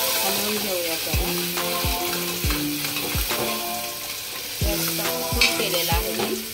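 Onions fry in a pan on a gas stove for Dhaba-style chana masala. A steady sizzle runs throughout, and a utensil stirs and scrapes in repeated rhythmic strokes.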